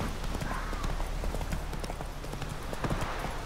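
Rapid, steady clip-clop of horse hooves from riding in the video game The Witcher 3, a continuous loud rhythmic trot heard up close with faint game ambience behind.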